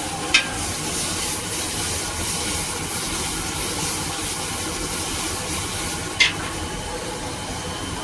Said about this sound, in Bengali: আবার তেল দিয়ে দিল হঠাৎ করে। তেল দিয়ে দিল ভালো করে।